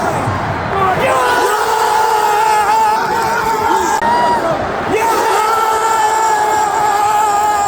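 A football crowd at a Wrexham match roars and screams continuously, with whoops and yells rising and falling in a dense, loud wash of voices close around.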